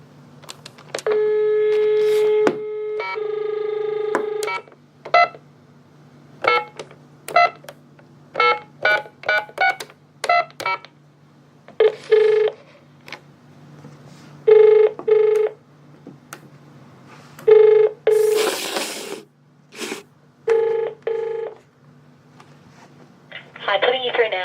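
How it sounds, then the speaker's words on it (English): A telephone number is dialed on a keypad: a long run of short, clean DTMF beeps in irregular bursts, with a few longer held tones in between, loud and close against a quiet hum. "I'll dial this number now"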